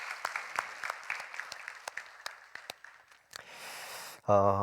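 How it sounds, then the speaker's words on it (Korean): A church congregation at a Korean special dawn prayer service claps together in a steady patter of many hands, fairly close, fading out before a brief tone. "한 번 더 박수해 주시겠습니다."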